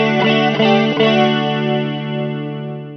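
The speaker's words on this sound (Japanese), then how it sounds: "コーラスがかかってる感じのサウンドですね" Electric guitar through a BOSS GT-1 multi-effects processor with chorus effect and a Matchless amp, three picked chords at the start then a long shimmering, wavering sustain, loud and alone.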